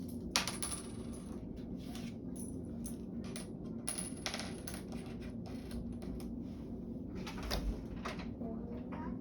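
Coins being dropped and handled on a surface during a money lesson, with scattered light metallic clinks and taps across the clip, quiet and close.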